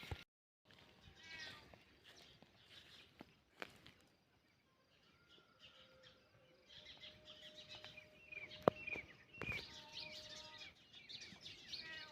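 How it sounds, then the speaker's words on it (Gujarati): Faint, distant cat meows, a few brief calls spread out over quiet background with occasional bird chirps. "મારે મીંદડાનો અવાજ આવતો હે એ માવ માવ કરે"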